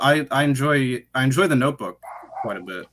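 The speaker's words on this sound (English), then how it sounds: "If you could hear my dog barking in the background." A pet dog barks and whimpers in the background of a conversational podcast, with a short yelping stretch near the end after the talking.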